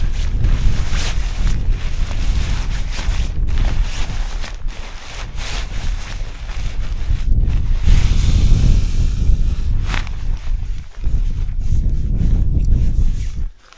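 Strong gusting wind in grim storm weather buffets the microphone with a loud, continuous roar that swells and dips in waves, no voices.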